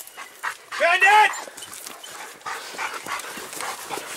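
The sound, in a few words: hunting dogs barking at a bear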